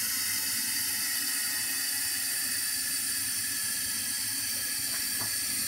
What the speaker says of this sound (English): now running warm water.